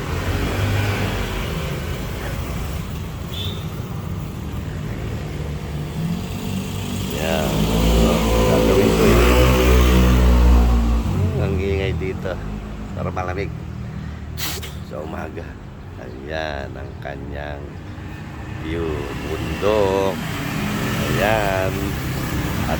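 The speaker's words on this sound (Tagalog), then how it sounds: "ang daming nagdadaan na sasakyan" Traffic on a road below a third-floor terrace in San Mateo, with cars and motorcycles passing and one engine swelling loudly midway, heard under a person talking.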